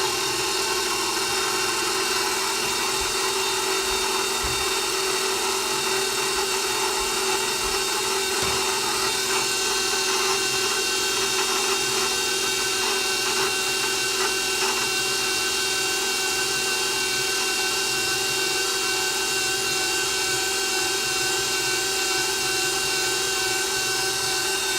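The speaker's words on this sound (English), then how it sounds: "it's probably gonna get loud for a while because you have to mix for quite a bit" An electric mixer kneads vegan cinnamon roll dough in a bowl, giving a steady, loud motor whir that runs without pause for the whole stretch, with no talking over it.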